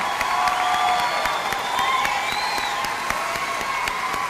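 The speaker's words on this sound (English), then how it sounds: "Let's give them all a great hand of applause." Dense applause from a commencement crowd, steady and sustained throughout, with some cheering and whistles rising above the clapping.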